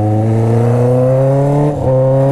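A Honda Hornet motorcycle with a 3-inch carbon steel Atalla exhaust and no muffler idles and revs loudly up close, its strong harmonic drone rising steadily, then dipping briefly before settling back.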